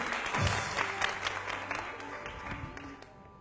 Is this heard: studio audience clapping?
yes